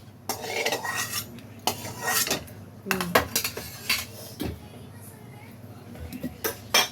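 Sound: stirring roasted peanuts and chillies in a pan

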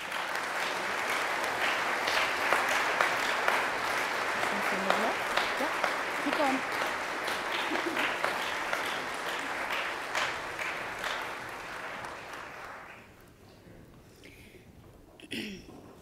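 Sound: applause

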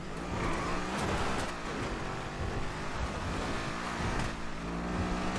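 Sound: loud car engine

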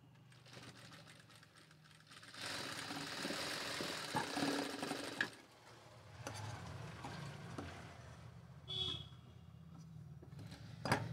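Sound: sewing machine stitching a saree blouse

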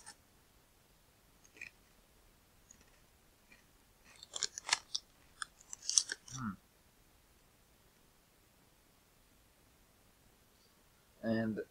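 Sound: chewing crunchy Lorenz jalapeno cream cheese crisps

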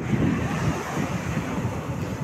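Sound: sea waves washing onto the beach

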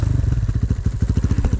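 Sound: motorcycle engine running in a video game

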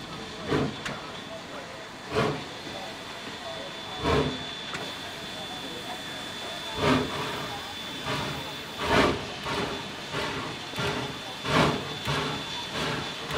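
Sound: steam locomotives of a doubleheader train passing

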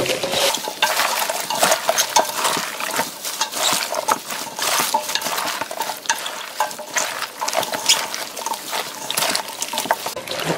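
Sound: mixing napa cabbage kimchi with minari, onion and chili

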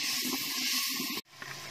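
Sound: garlic ginger paste frying in pan

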